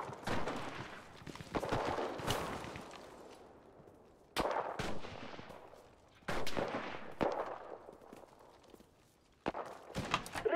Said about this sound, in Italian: sparando l'artiglieria!